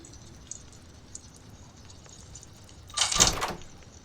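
A door being unlocked in the Roblox horror game Doors: a quiet game background, then a single short, loud clunk and rattle of the lock and door near the end, with no speech.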